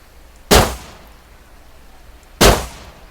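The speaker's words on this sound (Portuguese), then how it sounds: "Deixa eu dar um tiro no bicho lá." Two sharp, loud gunshots about two seconds apart, each with a brief decaying crack against a quiet background.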